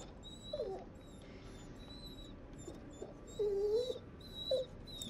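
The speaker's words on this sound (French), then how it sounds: "C'est le chien tout à l'heure, ça." A dog in the video game The Dark Pictures Anthology: The Devil in Me lets out a few soft, high whimpers and whines over a low ambient hum, with faint chirps in the background.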